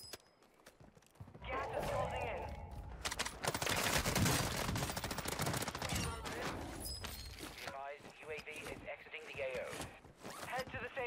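Enemy gunfire in a video game shooter, bursts of rapid automatic fire crackling loudly and continuously for several seconds amid other game effects, with a player talking over it.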